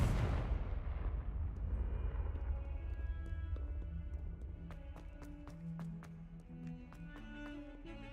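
A Confringo blasting curse explodes in the Hogwarts Legacy video game, a loud deep boom that rolls and fades over several seconds while faint chiming game tones rise beneath the decay.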